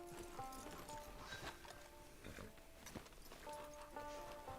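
Horse hooves clip-clopping in a western video game, a quick uneven trot of hoof strikes over ambient game sound, moderately close.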